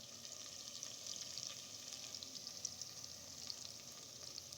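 Garam masala, shahjeera, cinnamon, cardamom and cloves fry in a pan of hot oil for a Telangana-style chicken curry, giving a steady, faint sizzle with no pauses and no voices.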